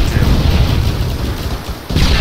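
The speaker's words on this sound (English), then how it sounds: "It's a BTR shooting at BKB." A BTR armored vehicle opens fire in a military game, a dense, loud wash of gunfire and booms with continuous crackling over a low rumble, briefly dipping before resuming.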